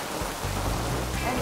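Steady rain falls on a cold, wet evening, a dense hiss filling the whole clip. Low rumbling pulses sit beneath it.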